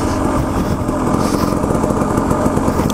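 A KTM 300 XCW two-stroke dirt bike with studded tires rides through frozen winter corners, its high-pitched engine buzzing loud and continuous, revving close by throughout.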